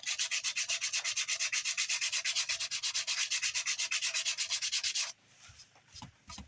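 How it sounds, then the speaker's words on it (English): Coarse 60-grit sandpaper rubs over wood on a guitar build in rapid, rhythmic back-and-forth strokes for about five seconds, close and loud, then stops. "grab your 60 grit and go over it right quick"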